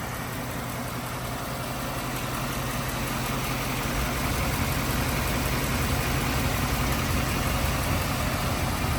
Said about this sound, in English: You can hear the spark plugs firing.